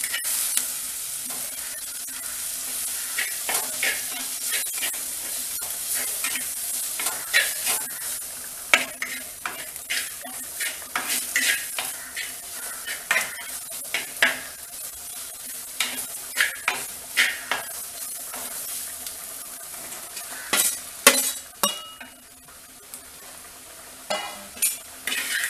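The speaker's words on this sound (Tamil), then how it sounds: "இதோட வந்து நம்ம மிளகாத்தூள், மல்லித்தூள், சோம்பு, மஞ்சத்தூள் எல்லாம் சேர்த்து அந்த மிளகாவுடைய பச்சை வாடை போகிற வரைக்கும் வதக்கிடுவோம்" Vegetables sauté with chili, coriander, fennel and turmeric powders, a soft background sizzle punctuated by frequent sharp metallic scrapes and clinks of a spoon against the pan, growing busier near the end, with no speech.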